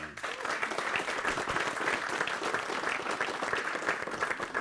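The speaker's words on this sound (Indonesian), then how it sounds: "ah ini dia kita sambut dengan tepuk tangan pimpinan sidang kita, Cepopong." Studio audience applause on an Indonesian TV talk show greets the host, dense steady clapping filling the whole stretch at moderate level with no talk over it.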